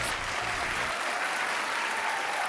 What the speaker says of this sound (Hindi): जोरदार तालियां, तालियां बजती रहे